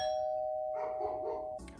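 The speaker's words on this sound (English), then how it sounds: "Don't you ring that doorbell." A doorbell rings with a clear sustained electronic tone, followed by a softer chime, fairly quiet and alone without talk.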